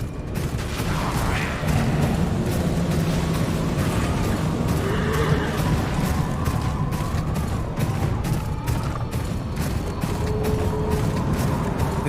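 Horses whinny and snort amid a busy clatter of hooves, gear and distant crashes in the Game of Thrones PC video game, with a constant dense background throughout.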